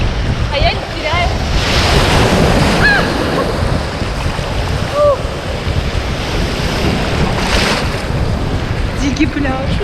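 Surf rolls and crashes continuously on a wild beach in Goa, loud and close, with steady wind buffeting the microphone and occasional faint voices or bird calls over the wash.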